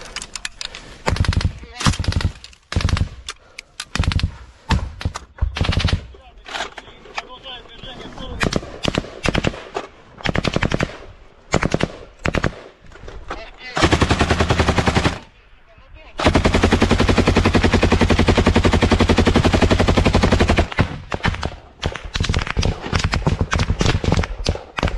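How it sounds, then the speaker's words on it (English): Bursts of machine gun fire from a Ukrainian soldier's corner position in close combat trench fighting, loud and near, with long sustained automatic strings and shorter volleys, some with voices in between. "one crate of machine gun rounds turns up. The Ukrainian soldier loads the belt and moves to a corner position to lay down suppressive fire"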